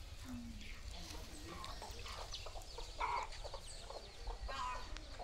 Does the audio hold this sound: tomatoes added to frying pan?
no